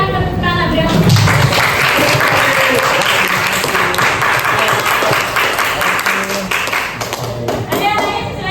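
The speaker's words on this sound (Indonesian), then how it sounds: "silakan tepuk tangan" Sustained applause from a classroom of students, steady clapping throughout with some voices mixed in.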